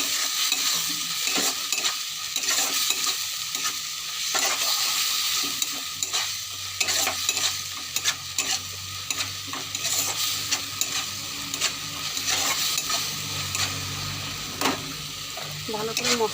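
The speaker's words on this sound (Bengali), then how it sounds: "হলুদ, নুন এবার দিয়ে ভালো করে মশলাটাকে কষাবো।" Ground spice paste with turmeric and salt is stirred and fried in a pan, a continuous oily sizzle broken by repeated scraping strokes of a spatula, close and fairly loud, with a low hum beneath and no talk.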